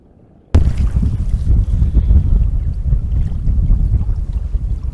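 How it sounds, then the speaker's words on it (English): Strong wind on a lake while paddling comes in as sudden loud buffeting microphone rumble after a brief quiet start, continuing as gusty low roaring with faint splashing. "It is still a little bit on the breezy side."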